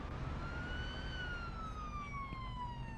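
A police siren wails in the Police Simulator: Patrol Officers video game, one long rising and falling tone that holds steady and loud over a busy low rumble for the whole stretch, with no talking.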